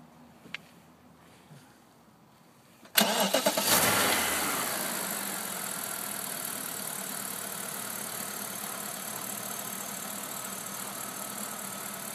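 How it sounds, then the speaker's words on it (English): A 2008 BMW 650i convertible's V8 engine cranks and catches after a short quiet stretch, then settles into a steady, smooth, quiet idle close by. "start it up for you so you can hear it run"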